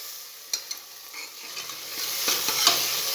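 Green peas curry with ground ginger paste is stirred in a pan, a soft sizzle underneath with a few sharp spoon scrapes and taps against the metal, growing a little louder toward the end.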